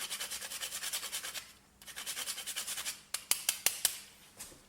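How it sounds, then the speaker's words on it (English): Nutmeg being grated over a creamy courgette pasta makes a rhythmic, close rasping with about a dozen even strokes, a short pause, and then a few more strokes. Several sharp taps follow near the end. "one thing I forgot to do was grate the nutmeg over the dish"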